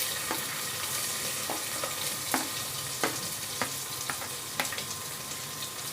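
Onion dropped into a spiced tadka of fenugreek seeds, cloves, black pepper, cumin, mustard seeds and asafoetida sizzles steadily for Rajasthani kadhi, with sharp crackles and occasional stirring clicks, close and alone.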